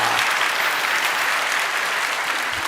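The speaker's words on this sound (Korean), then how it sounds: "우리 청년들 향해서 박수로 축복합니다." A church congregation applauds its youth musicians during a worship service: loud, dense, even clapping from a large crowd, continuous across the whole moment without speech.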